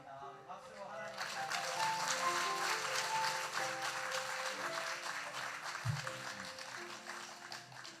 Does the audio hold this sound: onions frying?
no